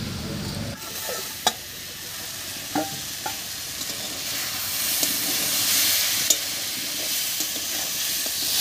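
Mixed vegetables cooked with little oil and spice crackle and sizzle in a pan after the lid is lifted, a continuous close frying hiss with occasional scraping stirs.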